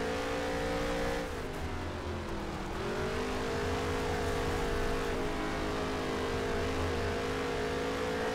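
Race cars in the NASCAR Heat video game run laps on the Las Vegas dirt track, a loud, continuous engine drone that dips and rises in pitch as the throttle eases and builds again.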